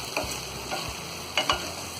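Spiced okra (achari bhindi) being stirred in a pan, a low sizzle under several distinct scraping and tapping strokes of a spoon at uneven intervals, close up with no voices.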